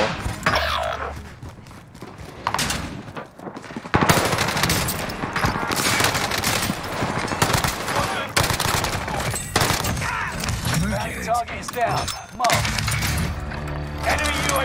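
Rapid bursts of SMG gunfire in the video game Warzone Rebirth Island crackle repeatedly in dense volleys with sharp impacts, broken by brief pauses, with a voice talking over the action.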